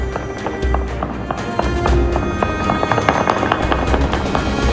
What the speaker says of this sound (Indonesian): Warga melepaskan tembakan bertubi-tubi ke udara untuk merayakan dimulainya gencatan senjata.